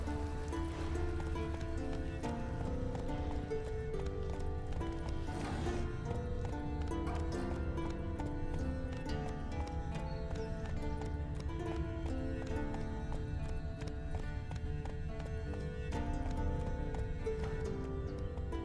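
Roach the horse galloping in The Witcher 3, rhythmic hoofbeats running steadily beneath a loud continuous musical score, no talking.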